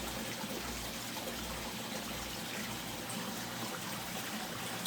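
Water trickling and splashing steadily onto garden soil during watering, a continuous soft wash of liquid at close range, fairly even throughout with no voices.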